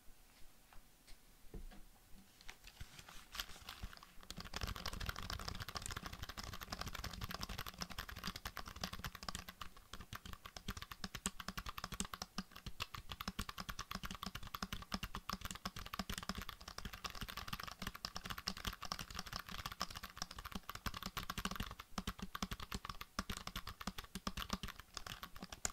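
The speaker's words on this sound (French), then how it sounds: "Je pense que nous allons commencer par un petit clavier." Quiet, steady typing on a small computer keyboard, a dense run of soft clicks and taps close to the mic that continues for most of the stretch after a brief near-silent start, ASMR style.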